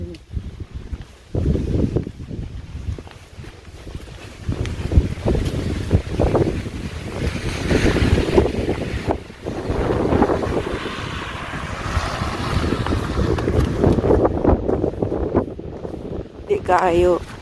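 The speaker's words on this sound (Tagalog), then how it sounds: "Hangin." Strong gusty wind in snowy weather in the Netherlands roars and buffets the microphone throughout, a rough broadband rush that swells and dips, with a voice briefly heard beneath it.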